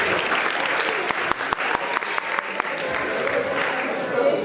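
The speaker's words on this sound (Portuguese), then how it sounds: "Palmas pra ela também, gente" An audience at a church youth camp gathering claps together, a dense burst of applause with sharp individual claps standing out, sustained for several seconds.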